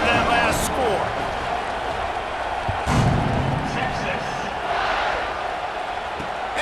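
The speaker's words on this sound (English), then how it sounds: "this crowd is buzzing after that last score" Crowd at a football game buzzing after a score, a loud continuous murmur of many voices with a few thumps, under an announcer talking throughout.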